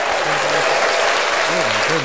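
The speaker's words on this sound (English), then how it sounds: "loud claps" Loud, dense applause fills the room, a sustained wash of many hands clapping with a voice talking over it.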